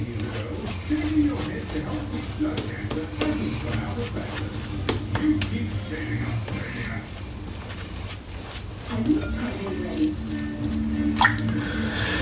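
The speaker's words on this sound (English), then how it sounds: "it's whipping up a phenomenal lather" A mixed-knot shaving brush whips soap into a thick face lather, giving a continuous wet squishing and swishing close up, with soft dripping squelches and someone talking over it.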